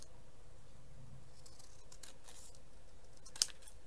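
Scissors cutting paper close to the edge of a craft piece, quiet soft snips over a faint background with one brief sharp click near the end, no talking.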